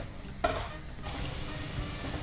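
Fries of a second batch frying in hot oil, a steady broadband sizzle running throughout with a brief louder burst near the start.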